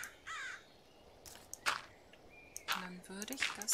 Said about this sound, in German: Die Krähen warten schon.